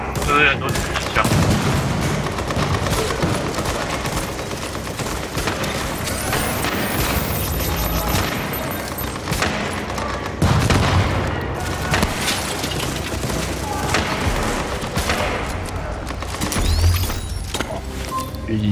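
Sustained bursts of automatic machine gun fire in a shooter video game, with dense rattling volleys, occasional booms and footsteps running under a player's voice throughout.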